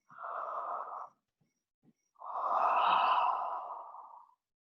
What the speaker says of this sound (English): Big long body stretch and yawn